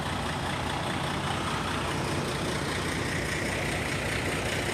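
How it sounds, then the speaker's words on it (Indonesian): Intercity bus engine idling, a low steady rumble with broad hiss, constant and fairly quiet with no talk. "Ini bus kita."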